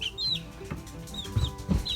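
Several backyard chickens cluck and chirp close by in a farm setting, with soft repeated calls and a couple of louder low clucks near the end.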